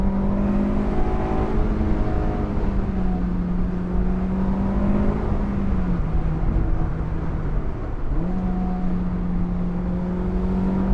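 Honda S2000 AP2 engine pulling hard under acceleration from inside the car, a steady loud harmonic drone that dips briefly between gears and climbs again, with no talking.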